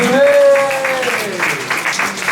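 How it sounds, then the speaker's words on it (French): A church congregation breaks into applause during a sermon, bursts of clapping rising under a held singing or calling voice that rings out clearly above it. "On applaudit s'il vous plaît"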